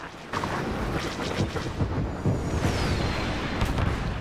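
Rapid blasts from an EE-3 blaster rifle in a Star Wars Battlefront battle, a steady stream of loud booming shots over continuous combat noise, with a thin whistling sweep in the middle.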